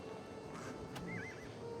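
A horse in the video game Oblivion Remastered gives a short, faint whinny with a wavering tone, with soft hoof clops and game ambience underneath.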